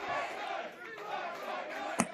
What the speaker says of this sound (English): Crowd just loving it, eating it up